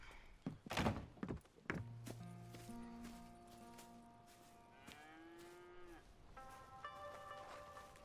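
Cattle on a ranch in Red Dead Redemption 2 moo repeatedly, several drawn-out lowing calls over farmyard thumps and game ambience, with no talk.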